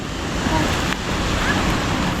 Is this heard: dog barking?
no